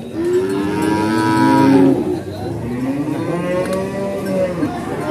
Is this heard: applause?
no